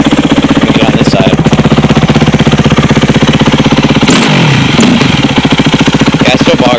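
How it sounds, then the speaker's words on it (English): A Yamaha YZ250F dirt bike engine revs hard and loud at close range, a continuous rattling buzz with brief throttle swoops near the middle, running steadily throughout. "I'll rev it a little bit."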